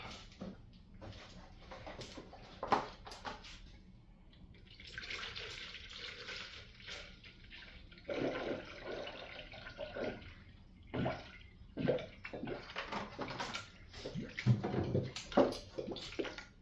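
Coolant pours into a new aluminum radiator on a Nissan 350Z, a gurgling, splashing flow that comes and goes in bursts, close by, with brief pauses between pours.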